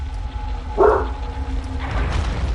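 A female dog barks once indoors, clearly and close, then gives a fainter second bark a second later over a low background hum.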